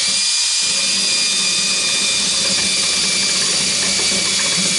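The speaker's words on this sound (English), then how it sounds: "I'm going to take a long drill and I'm going to drill a couple of holes down through the box" A long drill bores holes down through a wooden box on the main deck of a wooden boat build, giving a loud, steady high-pitched motor whine with a gritty cutting rasp underneath.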